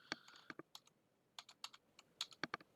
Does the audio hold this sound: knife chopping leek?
no